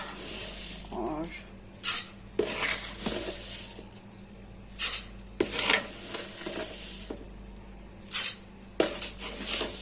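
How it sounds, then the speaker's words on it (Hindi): A steel spoon scooping sugar into a bowl, giving several sharp, close metallic clinks spaced a few seconds apart over a soft granular scraping, with quiet room noise between. "ये मैंने स्टील का चम्मच है, ये मैंने 5 लिए हैं चीनी के।"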